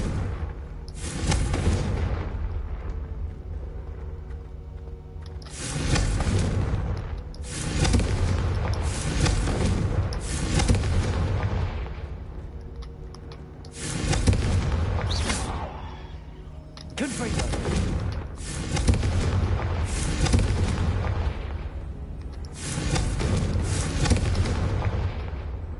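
Confringo fire-spell blasts in the video game Hogwarts Legacy go off repeatedly as loud booming bursts at irregular intervals, with spoken voices at points between them.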